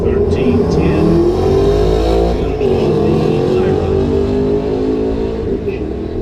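Drag race car running down the track at a Ford and Shelby nationals elimination event, a loud sustained engine roar at around 6,000 RPM with a steady drone and shifting pitch, heard from nearby as voices talk over it.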